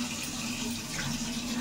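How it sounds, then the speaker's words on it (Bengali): Tap water runs steadily into a container to soak red amaranth greens, a continuous close splashing gush that holds at an even level throughout the short moment, with no talking. "শাকটা ভিজিয়ে দিই। আরেকটু জল দিতে।"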